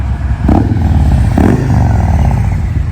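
A 2022 Harley-Davidson Road Glide Special with a tuned 114 M8 engine idles close and loud in a deep, rumbling, lumpy beat, with two short rev blips.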